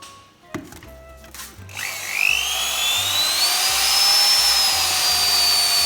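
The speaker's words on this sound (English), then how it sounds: "we put 8 liters, so that's around about 12 kg of Plastifloor SL filler into the liquid resin and mix it for another 1-2 minutes" A power mixer blends Plastifloor SL filler into liquid resin for a floor coating: after a few knocks it spins up with a rising whine, then holds a loud, steady motor drone with churning texture.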